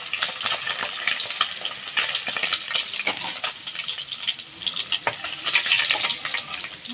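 Pieces of shol (snakehead) fish frying in a pan, a steady, loud crackling sizzle with dense spitting pops throughout.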